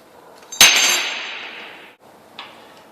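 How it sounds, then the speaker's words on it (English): A metallic snap or clink from an adjustable monument cutter working on copper pipe, followed by a long ringing, decaying tone and a second fainter clink, close and alone with no talk. "With this adjustable monument cutter, I simply increase the tension as I spin it, and it gradually cuts through the copper pipe."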